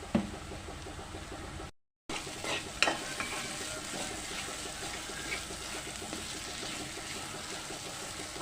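Red chili powder masala frying in a pan for misal, with a steady low sizzle and faint stirring, briefly cut off near the start, no speech.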